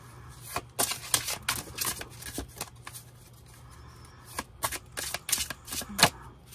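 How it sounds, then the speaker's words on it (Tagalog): A deck of playing cards being shuffled, soft repeated riffling bursts and flicks close by, fairly quiet, with no talking. "Balasahin muna po natin ang ating cards."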